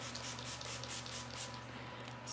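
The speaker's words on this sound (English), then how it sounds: "Spray some water" A small Tim Holtz sprayer mists water onto a stamp chamois in a rapid series of short, soft, hissing spritzes, close and fairly quiet over a low background hum.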